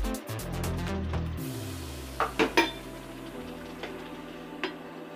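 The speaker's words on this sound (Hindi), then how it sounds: "इसको ऐसे चलाते रहना है" Egg curry masala being stirred in a pan after tomato puree is added, with a few sharp metallic clinks of the spoon against the pan over a steady low frying hum, no talking.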